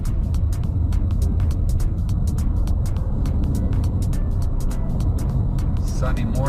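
Car driving slowly along a potholed road in Nicaragua, a steady low engine and road rumble with repeated sharp clicks from bumps, continuous and close throughout.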